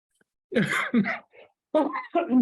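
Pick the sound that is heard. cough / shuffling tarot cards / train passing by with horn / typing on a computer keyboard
cough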